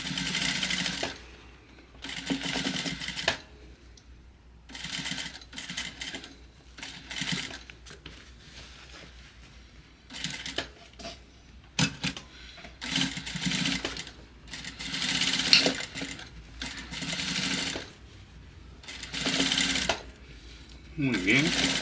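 Sewing machine stitching the seam of a tailored vest in repeated bursts of fast, even whirring, separated by quiet pauses, close and clear, with a person talking between runs.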